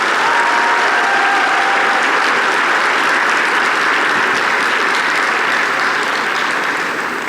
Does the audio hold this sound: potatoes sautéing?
no